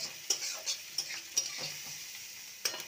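Radish leaves with salt and turmeric are stirred in a pan: a series of quick scraping strokes and light spatula taps over a faint background sizzle, with no one speaking.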